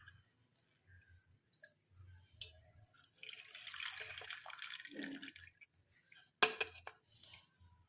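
A dark turmeric decoction strained through a strainer: quiet trickling and dripping, a stronger pouring splash in the middle, then a sharp clatter near the end.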